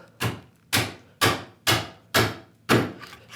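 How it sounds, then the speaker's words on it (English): Six sharp, evenly spaced chisel chops ring out as a mortise is cut into wood with the chisel held bevel up at an angle, each blow a crisp, close thunk with a quick decay. "I'm going to turn my chisel around, bevel up now, and I'm going in at an angle."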